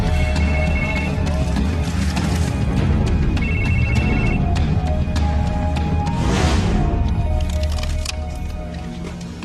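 A cell phone rings with repeated electronic tones over a steady background hum in a tense TV drama scene, the ringing pattern continuing for several seconds.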